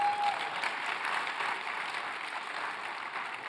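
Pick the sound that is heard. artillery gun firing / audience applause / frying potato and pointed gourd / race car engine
audience applause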